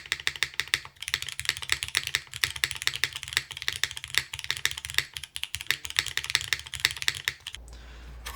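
Rapid, clacky typing on a Porsche-inspired custom mechanical keyboard, close and crisp, with an uneven rhythm and occasional heavier thocks from larger keys.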